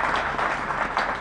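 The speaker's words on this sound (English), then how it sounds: "I would just like to request you to applaud these officers for the very hard work" An audience at a meeting on a rail goods transport deal applauds officers with steady, close, full-room clapping throughout.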